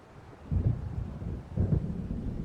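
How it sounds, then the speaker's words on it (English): Thunder rolling in ahead of an approaching storm in the video game Alan Wake: two deep, heavy rumbles swell and linger one after the other, loud and low, with no voices. "It seems there's a storm coming."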